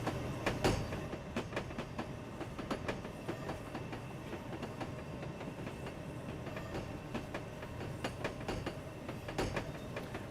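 A passenger train in Train Simulator Classic rolls along steadily, a continuous rumble with rhythmic clickety-clack of wheels over rail joints throughout, fairly close and without talk.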